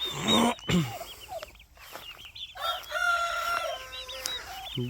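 Grey turkeys on a grassy outdoor pasture gobble and call in repeated bursts, loud nearby warbling cries broken by short pauses, with overlapping calls from several birds.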